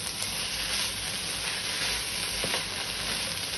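Chopped vegetables for spring rolls sizzle and fry in a hot pan, a steady, dense crackling hiss that runs unbroken at close range with faint stirring scrapes.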